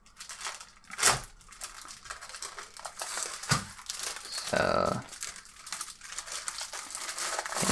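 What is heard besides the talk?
plastic protective film crinkling while unboxing keyboard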